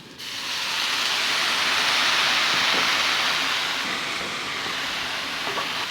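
Vegetable broth pours into soy protein, likely textured vegetable protein, cooking in a pan, giving a steady loud hiss that holds for several seconds and fades slightly at the end.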